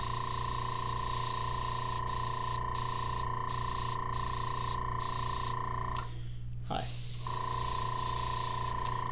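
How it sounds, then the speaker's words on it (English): Paint sprayed from a spray gun gives a steady airy hiss broken into short repeated bursts, set against a constant mechanical hum, with a voice briefly present. "see how it has that spray"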